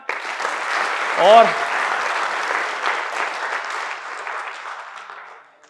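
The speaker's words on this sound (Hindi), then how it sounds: "तो आप सभी के लिए जोरदार तालियां।" A seminar audience breaks into sustained applause, clapping steadily for several seconds before tapering off; a voice briefly cuts through near the start.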